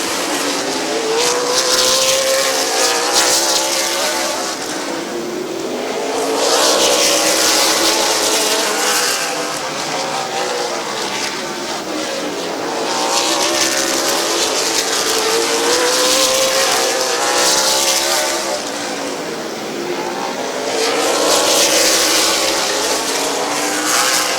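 Race cars circle the track at Midvale Speedway in a late-laps feature, engines droning loudly and continuously as cars pass in waves, swelling and fading every few seconds with no talk over them.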